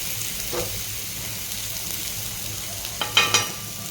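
Thalipeeth, a grain-and-lentil flatbread, sizzles in oil on a pan over medium heat with a steady close crackle and a few sharper spatters near the end.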